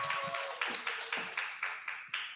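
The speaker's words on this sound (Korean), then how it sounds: "목사님 박수로 맞아주시기 바랍니다" A hall audience at a Korean church youth retreat claps together in a steady rhythm, about five even beats, moderately faint, with no talking over it.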